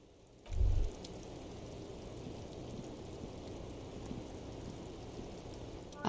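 Steady rain falls in the video game Disco Elysium as a soft, continuous hiss of drops, with a brief low thump near the start. No voices are heard.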